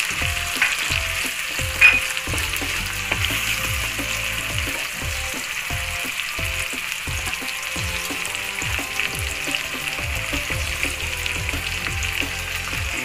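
Tomatoes sizzle in a sauté pan for a kangkong stem dish, a continuous close frying hiss with rhythmic spatula scrapes and stirring clatter throughout, no voices.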